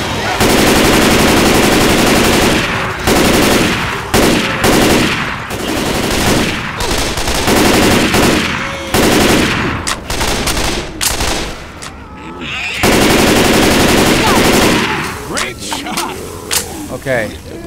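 Continuous bursts of automatic gunfire and rapid shots fill a Left 4 Dead 2 zombie-town firefight, loud and dense with brief gaps, while players talk over the action.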